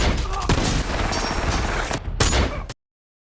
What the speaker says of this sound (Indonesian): aksi baku tembak pun terjadi